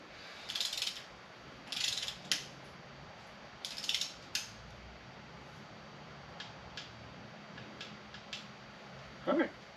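A hand ratchet tightens bolts on an RV engine, giving several short bursts of rapid clicking with pauses between them, close but fairly quiet, plus a few isolated clicks and a faint knock near the end.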